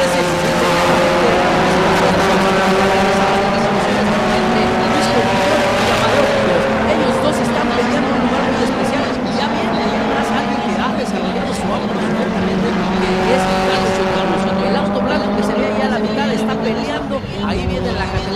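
GT3B race cars scream past on a racetrack, engines high and loud with overlapping harmonic whines rising and falling as they pass, while a commentator talks over them.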